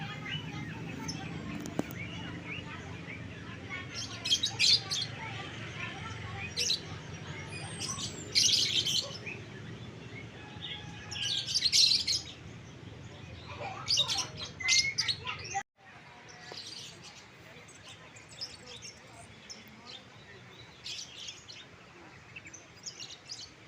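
Birds chirp and tweet at an outdoor bird market, with lovebirds among the caged birds, in bursts of bright calls over a steady background hum and a faint murmur of voices.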